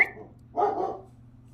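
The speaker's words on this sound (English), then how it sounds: "She's barking at folks outside." Dog barking indoors at people outside, a single short bark after a brief faint sound, close and fairly loud with no talking.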